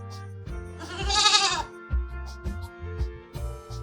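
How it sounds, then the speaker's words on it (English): A single drawn-out goat bleat rings out clearly, followed by light musical notes playing in the background. "G for goat."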